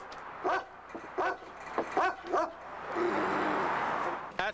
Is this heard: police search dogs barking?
yes